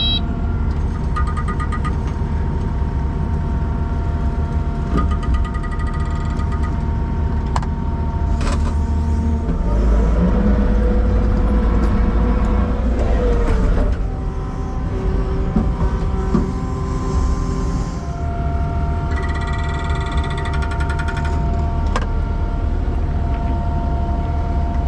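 A Chinese brush cutter mowing grass runs as a steady, loud motor drone for the whole stretch, its pitch shifting slightly as the load changes, with no talking.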